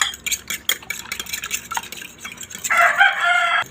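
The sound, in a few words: stirring boiled eggplant with seasonings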